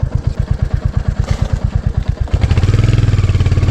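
A motorcycle riding down a steep hillside through dense forest, its engine thumping in a loud, rapid, even putter close by, then settling into a faster, smoother drone.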